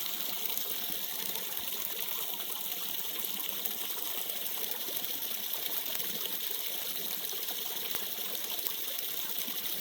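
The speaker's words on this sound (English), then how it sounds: "Look at all the drips falling in the water on that far side" Steady running water over a rock and gravel bottom with a continuous gushing, trickling texture, as if many drips fall into a stream; even and unbroken throughout, no voices.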